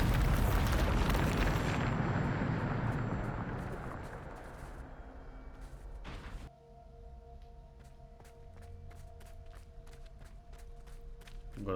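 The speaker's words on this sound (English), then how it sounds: "Ah, já sei, é bombarda." Bombarda spell explosion in Hogwarts Legacy, a huge booming blast that rumbles loudly and slowly fades, followed by a sharp crack, then quieter ringing tones and light footsteps.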